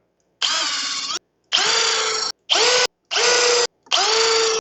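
Cordless power drill drives 1 1/4 inch sheetrock screws in five separate bursts, each whining up close for under a second, with short pauses between.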